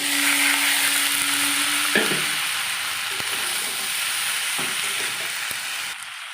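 Tomato, coriander leaves and green chili go into a pan of frying rohu fish curry with whole green peas. A steady, close sizzle runs throughout, with a few metallic clinks and scrapes of stirring.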